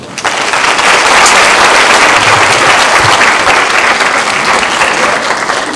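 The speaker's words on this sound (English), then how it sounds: "please give a round of applause to Dr. Dickey." Loud, dense applause from a large audience at a school district professional development session welcoming a presenter, a sustained roar of many hands clapping close by from start to finish.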